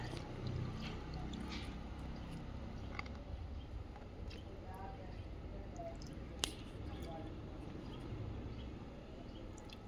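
Water poured from a container onto a plant, a soft continuous splashing trickle with scattered drips, fairly quiet, with faint voices in the background.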